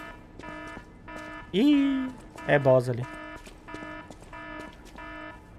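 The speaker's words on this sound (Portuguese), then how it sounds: "despertador" An alarm clock in the video game Lies of P rings in a steady, repeating electronic pattern. A voice cuts in briefly, loud and close, partway through the ringing.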